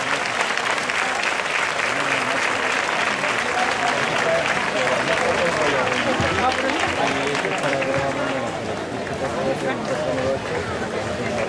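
A crowd at a town cultural week event in Chipiona applauds continuously as a woman receives a bouquet of flowers, loud dense clapping with voices and chatter mixed underneath.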